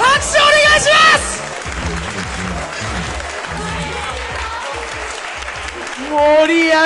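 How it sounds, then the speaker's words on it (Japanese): An audience applauds after a match at a Street Fighter III: 3rd Strike gaming contest, a sustained clapping crowd heard alone in the middle, with a voice talking over it at the start and end. "拍手お願いします。"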